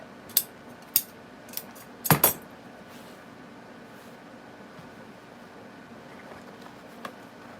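Scissors snip material for a farmhouse wreath, a few sharp isolated clicks and a brief cluster of cuts, close and quiet in a still room.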